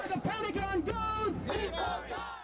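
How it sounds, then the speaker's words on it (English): A protest crowd in Los Angeles shouts slogans together in loud, rhythmic chanted bursts, many voices close by and rising and falling with each phrase. "The crowd shouted slogans in protest of the Pentagon's actions"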